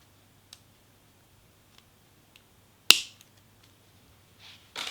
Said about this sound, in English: Then go in and cut off the excess, leaving that 1 or 2 millimeters.